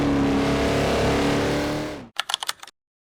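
SSC Ultimate Aero engine in a Forza racing game, a loud sustained drone for two seconds that cuts off abruptly, followed by a short burst of clicky keyboard-like taps.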